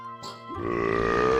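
A white Pikmin in Pikmin 2 lets out a single short, gurgling cartoon burp that swells and holds to the end, close and alone with no talk.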